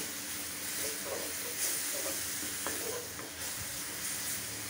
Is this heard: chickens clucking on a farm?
no